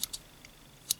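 Small handmade scissors on a Zeppelin multi-tool knife snip three times, quick crisp metallic clicks, two close together at the start and a louder one near the end, with quiet room tone between.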